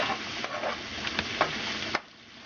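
Home fries are stirred and scraped in a frying pan, a soft steady sizzle broken by several sharp scrapes of a utensil against the pan bottom, close and fairly quiet.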